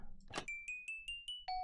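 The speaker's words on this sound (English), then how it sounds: "Bit like a xylophone, kind of cool." Minecraft note block set on gold: a bright xylophone-like chime struck in a quick run of six clear notes, with a brief rustle just before and a lower final ding.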